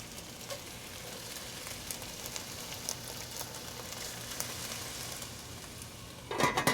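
Beet greens cook in a pan with vegetable broth and a little salt, giving a steady soft sizzle and bubbling hiss throughout, with a louder clatter right at the end.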